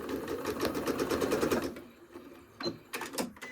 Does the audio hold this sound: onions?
no